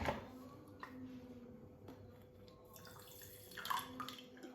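Water trickles from a tap into a glass holding yeast for Moroccan crêpe batter, a soft continuous running pour with a few light drips and clinks, close and fairly quiet throughout.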